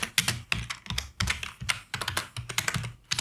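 Rapid, close clicking of a computer keyboard as code is typed, bursts of keystrokes in an uneven rhythm with brief pauses between words.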